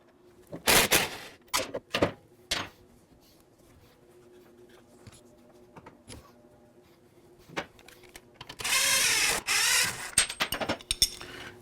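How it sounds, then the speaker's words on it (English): A ratchet and tools work a bolt loose on the front suspension of a 2020 Can-Am Spyder RT Limited, with sharp separate clicks and scrapes, then a quick continuous ratcheting burst near the end, close and otherwise quiet. "So we'll go ahead and remove the bolt on the bottom first."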